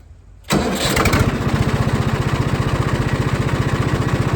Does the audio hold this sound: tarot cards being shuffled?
no